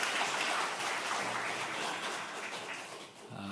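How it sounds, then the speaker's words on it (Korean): Church congregation applauding in encouragement during a Sunday service, a dense, steady wash of many hands clapping that fades slightly toward the end, as a voice briefly starts. "격려의 박수하겠습니다"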